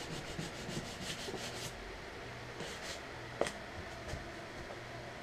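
Final hand-sanding of wooden knife handles: soft, faint rhythmic rubbing strokes in a quiet workshop, with repeated scratchy passes and one small knock.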